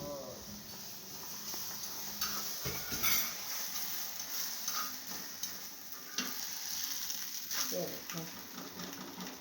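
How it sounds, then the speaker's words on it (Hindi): Roti fries in a lot of oil on a tava over a stove, a faint steady sizzle with occasional scrapes and taps, while a person talks over it. "मामू नानो ने इतना सारा ऑयल डाला चूल्हे को ही आग लग गई"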